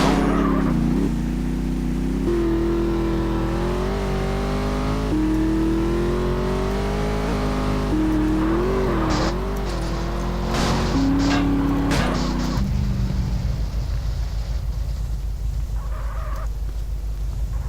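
A car driven in the video game GTA San Andreas, its engine whining and shifting pitch as it accelerates, then cutting to a rougher, noisier sound near the end, loud and continuous.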